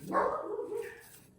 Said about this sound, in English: the dog's seeing people walking by. So she's going to bark